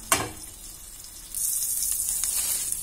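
Butter sizzles in a hot pan ready for toasting bread for an English breakfast. A sharp clack opens, then a steady hiss of frying builds and continues.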